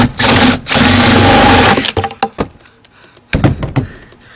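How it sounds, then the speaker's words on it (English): Cordless power drill whirring in a loud sustained burst while drilling out spots during installation of a rooftop air conditioner on a Forest River pop-up camper, followed by clatter and handling knocks, then a shorter burst. "it does help to have your drill handy to help drill out the spots"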